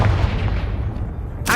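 A Confringo fire blast spell in Hogwarts Legacy bursts with a heavy, booming crack followed by a rumbling tail, and a sudden bright rush of noise at the very end.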